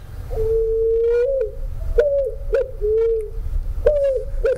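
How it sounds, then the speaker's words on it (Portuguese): A picazuro pigeon calls with a series of low, hollow cooing phrases, some drawn out and some short, set against steady outdoor background noise, with no one speaking. "É, é uma pomba."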